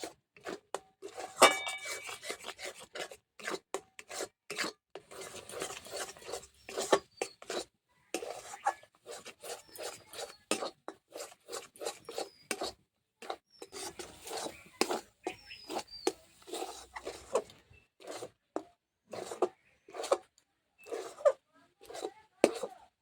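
A spoon stirs a cornflour-and-water mixture for kancha golla sweet in a pan, scraping and clinking against the metal in quick, uneven strokes close by, with no talking.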